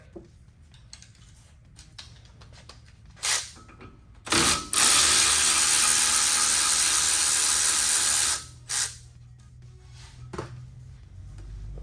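A ratchet clicks rapidly while loosening a 10 mm bolt on a hub bracket of a 2015-2017 Ford F-150 4x4, in short bursts around one long continuous run, close up with no talking.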